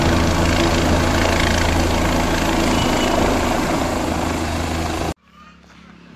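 A helicopter visiting a village temple to drop flowers idles nearby, its engine roaring loud and steady with a dense, continuous rumble before cutting off abruptly near the end.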